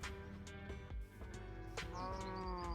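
Sheep bleating repeatedly in a farm enclosure, several drawn-out, wavering calls close by and fairly loud, layered over one another with little pause between them.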